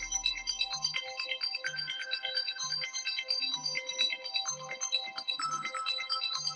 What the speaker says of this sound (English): Oh, I got an 800 number calling me.